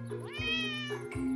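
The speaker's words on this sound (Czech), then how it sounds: "Ale, kočka." A cat meowing in the video game Polda 7, one long rising then sustained meow, loud and close over a steady hum of game background sound.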